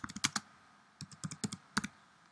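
Computer keyboard keys tapped in short irregular bursts, a quick cluster of clicks followed by several separate presses and one firmer stroke like an Enter key, close and fairly quiet with no talk.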